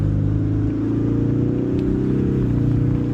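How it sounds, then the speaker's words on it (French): A Ford Mustang 2.3 Turbo in sport mode, its engine a loud, steady low drone heard from inside the car, with the pitch shifting slightly near the end. "Elle fait pas un meilleur bruit quand elle est en sport, hein?"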